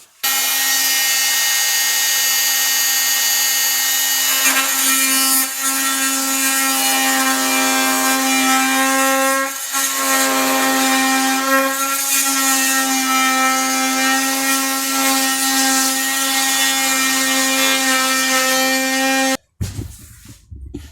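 A saw cutting through a kitchen worktop with a steady, loud, continuous whine lasting nearly twenty seconds, then cutting off abruptly with a brief sound after it.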